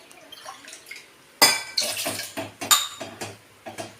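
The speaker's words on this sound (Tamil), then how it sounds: "தண்ணி ஊற்றிக்கிடுவோம்" Water poured into a pan on a stove while making Kerala-style rice appam, with clinks of metal vessels and a sudden splash followed by several short clatters and trickles, close and fairly loud with no talk.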